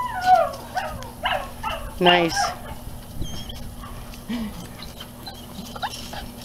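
A Dutch Shepherd whines and vocalizes in rising, warbling yelps close by, mixed with short spoken remarks and some outdoor background noise.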